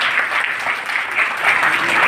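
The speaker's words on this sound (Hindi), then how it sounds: "सदन जोरदार तालियां बजाकर स्वागत करें।" Loud, steady applause from an assembly hall audience welcoming honourees at a civic award ceremony, dense clapping sustained throughout with no pause.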